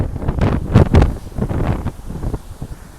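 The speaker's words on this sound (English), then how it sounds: "Excuse the wind as well because it's quite windy on top of the mountain here." Strong wind on a mountain top buffets the microphone in heavy, irregular low rumbling gusts that surge and fade, loud and close, with no talk.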